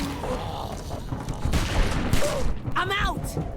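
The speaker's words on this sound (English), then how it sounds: "Lee went trigger happy and popped as many heads as possible until he was out of bullets" Rapid gunfire crackles through a dense, noisy battle in Telltale's The Walking Dead game, shots overlapping into a continuous fusillade with shouting voices mixed in.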